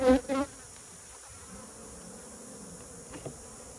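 Honey bees from a feral hive, collected in San Antonio and held in a swarm trap, make a brief buzzing burst at the start. A faint, steady hum and a small flick of movement follow.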